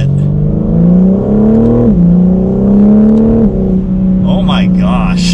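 A 2021 BMW M4 Competition Coupe with an 8-speed automatic and its exhaust valve open revs up to about 4,000 RPM, loud and close. The engine note rises in two smooth pulls that dip at the gear shifts, with talk over it.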